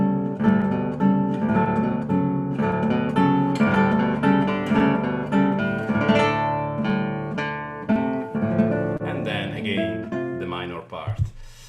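Classical guitar chords in a Tansman piece, an open D-chord voicing missing its third, then shifting into a minor passage; close, sustained plucked harmony ringing continuously for about twelve seconds with no talking.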